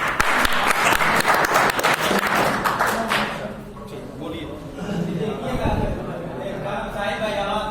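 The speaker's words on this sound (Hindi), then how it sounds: "सलमान सर के लिए एक ताली हो जाए बच्चों।" Children clap together for a teacher at a Teacher's Day school event, a burst of clapping for about three seconds that fades into murmuring and chatter, with an adult voice speaking afterward.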